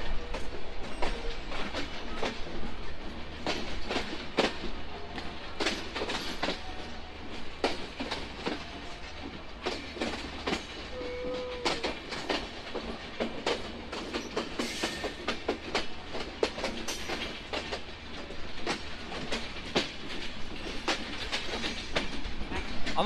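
The Kapotaksha Express, hauled by a 66 series locomotive, pulls out of Rajshahi railway station with a continuous rumbling roll and repeated clickety-clack wheel beats over rail joints, heard from on board at a moderate, steady level.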